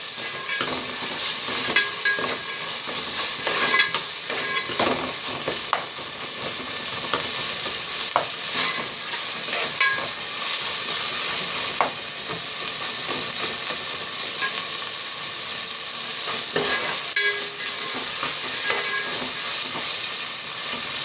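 Tomatoes sautéing in a pan after ginger-garlic paste for nombu kanji, a sustained loud crackling sizzle with repeated spatula scrapes and knocks across the whole stretch, no talking.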